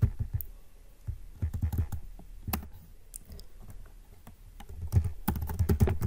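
Fingers type code on a computer keyboard, producing bursts of close, crisp key clicks in irregular runs separated by short pauses, with no speech.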